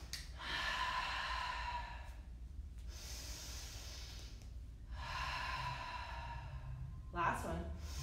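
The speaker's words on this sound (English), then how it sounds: "making sure that we're coming back to those open mouth exhales" Yoga breathing with slow, open-mouth exhales, three long breathy sighs of air at an even rhythm, close and soft, followed by a short quick breath at the end.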